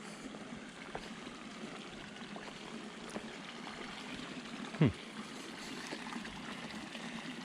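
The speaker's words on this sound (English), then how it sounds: "I can hear the water running down over here." Water from a lake trickles and runs down into the ground beside a trail, a faint steady flowing murmur, with one brief louder knock partway through.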